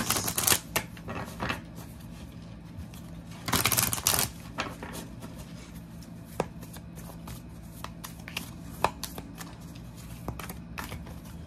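Tarot cards are shuffled and riffled by hand, with soft crisp flutters and taps, including a louder burst of riffling partway through, close and quiet.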